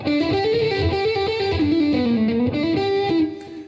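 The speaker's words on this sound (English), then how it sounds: "like for example minor blues could sound like this." A distorted electric guitar plays a short minor blues scale run that bends up and down, loud and alone, fading at the end.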